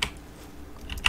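A few computer keyboard key presses during photo-editing work, quiet separate clicks at the start and near the end.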